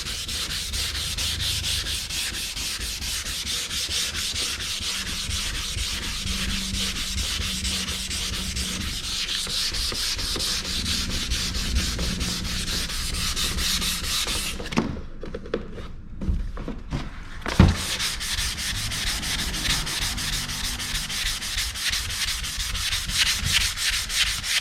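Steady, close sandpaper rubbing on Chevrolet Z28 car parts, including the dash, runs almost without a break; it pauses briefly midway, with a few hard thunks as a part is handled, before the scratchy strokes resume.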